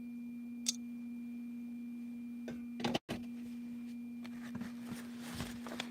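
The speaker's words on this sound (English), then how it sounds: "Sorry for that noise. That's my inverter." A power inverter in a house emits a steady low electrical hum throughout, with a few faint clicks and a brief dropout partway through; no one speaks.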